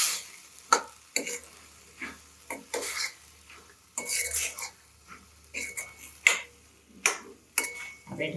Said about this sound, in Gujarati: આપણે આમાં લીલી ડુંગળી એડ કરી દઈશું. થોડી વાર આપણે ચલાવીશું.